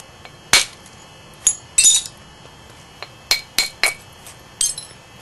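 Flint knapping: a one-inch copper bopper strikes the edge of a stone biface to thin it, producing about a dozen sharp, bright clinks and ticks at an uneven pace, close and crisp with quiet gaps between.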